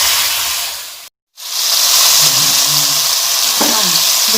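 Chicken sautés with salt in a pan, a loud, close sizzle that cuts out briefly, then returns with a soft scrape of stirring beneath the hiss.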